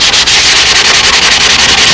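Sandpaper rubbed back and forth over a model plane, a steady close scratchy rasp with quick regular strokes and no pauses.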